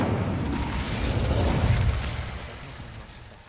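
Incendio fire spell cast in Hogwarts Legacy, a dense whooshing burst of flame with a low rumbling roar that swells for about two seconds and then trails off, without any talking.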